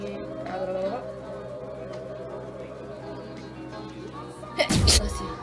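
A single sharp sneeze bursts out near the end, loud and close, after a stretch of quiet rustling and faint background sounds.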